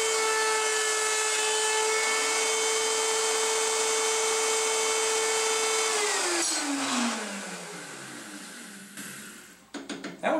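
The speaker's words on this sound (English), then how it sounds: "chamfer bit and chamfer the plates" A power router with a chamfer bit runs at a steady high whine while cutting brake plates, then spins down over several seconds, followed by a few close knocks and handling sounds.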